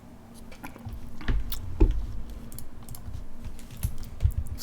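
Keyboard typing during a Quake Champions training session, a quick run of uneven clicks and taps mixed with low thumps and steady background hum, with no one talking.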